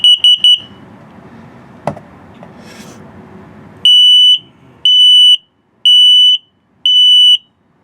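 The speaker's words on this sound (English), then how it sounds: "the first was LP test, the second was carbon monoxide test, and that slow beep is your low battery alarm" RV carbon monoxide and LP gas detector in a 2023 Jayco Redhawk 22C running its test: a quick burst of shrill beeps, then four loud, evenly spaced long piercing tones, close and alone.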